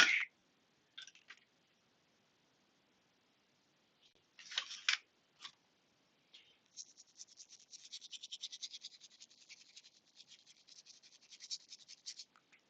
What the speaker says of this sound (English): You can probably hear me spraying it.